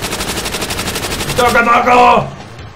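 Rapid automatic gunfire in a zombies shooter game rattles in an even burst, followed by a louder, tonal sound near the end.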